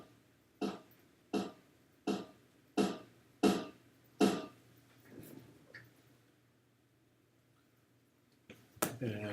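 Six sharp, evenly spaced snare drum hits ring out in a steady quarter-note rhythm, followed by quieter rustling and one final crisp strike.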